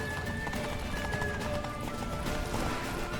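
Horse hooves gallop steadily in The Witcher 3, a dense, continuous drumming that runs loud and close from start to finish with no pauses.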